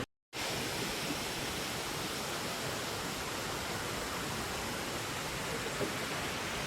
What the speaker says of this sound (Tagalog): Welcome to Inambakan Falls.